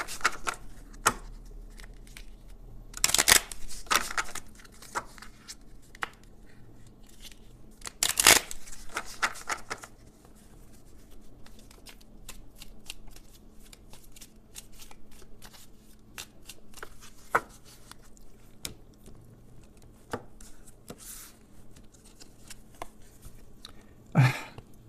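A deck of oracle cards is shuffled in repeated bursts of crisp riffling and flicking, with a couple of loud snaps standing out, close up in a quiet room without talk.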